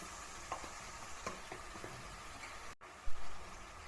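Kerala-style brinjal thoran with grated coconut fries in a pan, giving a steady close hiss of sizzling with a few soft stirring scrapes and a brief rattle near the end.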